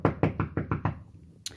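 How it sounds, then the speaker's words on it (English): Six quick, evenly spaced knocks on a wooden door offstage during a play reading, loud and close, followed by a brief sharp click after a pause. "A knocking within."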